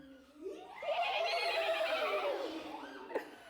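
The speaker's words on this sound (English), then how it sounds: "What sound does a horse make?" A horse whinnies once in a long, wavering, rising-then-falling neigh, fairly close and clear, with no talking over it.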